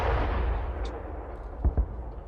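Distant muffled booms from a Russian drone strike on Odesa over a steady low rumble, with two sharp thuds close together near the end.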